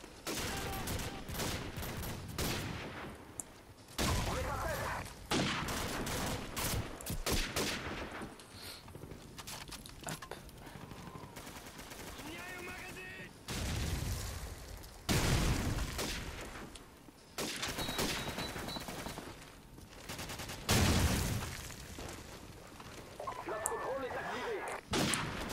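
MP9 submachine gun fire in Call of Duty 4, rapid bursts mixed into a busy, dense battle soundscape with explosions and repeated volleys, fairly faint overall.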